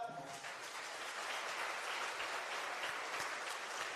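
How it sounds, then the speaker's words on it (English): Sustained audience applause at a youth empowerment week session, a dense, even roar of many hands clapping that holds steady for several seconds. "Let's put our hands together for him"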